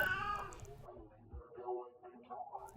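A cat meows several times from inside a car, close by, mixed with a person's voice talking.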